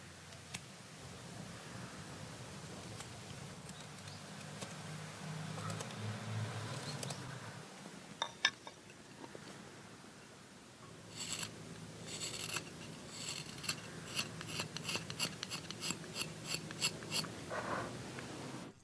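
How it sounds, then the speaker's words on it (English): Small hand tools scrape and rasp as the pointed tip of a netsuke is hand-carved, with soft irregular scratching and tapping up close, growing busier and crisper in the later half, no talk. "When the overall shape is complete, she starts carving the pointed tip."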